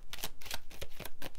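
Advice cards for a Taurus reading are shuffled in quick riffling bursts, several short close rustling flutters in a row, with no talking.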